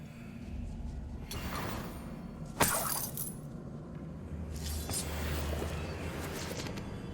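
A sudden sharp crack and burst from a spell blasting through a barrier in the Hogwarts Legacy video game, with a brief crumbling tail, set against a steady low game ambience and drone.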